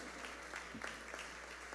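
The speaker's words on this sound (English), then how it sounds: "Give a big round of applause for Tani and the boys" An audience at a cultural awards ceremony claps in a brief, fairly faint burst of applause, heard from a distance.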